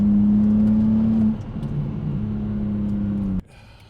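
Interior of a car being driven, with a steady low engine hum that shifts pitch as the revs change, then drops off abruptly near the end.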